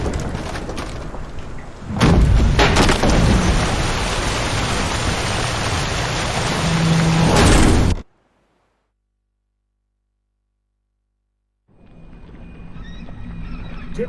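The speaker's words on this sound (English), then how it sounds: "Didn't bargain for no storm." A rainstorm in The Witcher 3: Wild Hunt at sea aboard a boat, with a loud steady roar of heavy rain and wind that cuts off abruptly into silence, then a fainter wash of rain returns.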